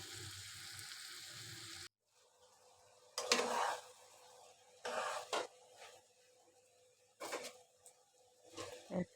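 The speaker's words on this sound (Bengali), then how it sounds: "এখন সবজিগুলো দিয়ে ভালো করে নেড়ে চেড়ে কষিয়ে নেব।" Ash gourd and other vegetables go into a pan for a prawn dish and are stirred and fried with scraping, clattering bursts and sizzling. A short quiet gap separates the bursts.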